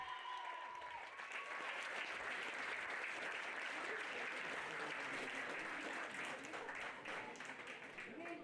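An audience applauds the prize winners of a pony show jumping team competition, producing a steady, moderately distant roll of many hands clapping, with a voice briefly audible over it.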